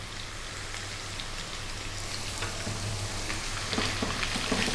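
Onion fries in a pan alongside potatoes for an egg potato curry, giving a dense, steady crackling sizzle that grows slightly louder, with light stirring clicks scattered throughout.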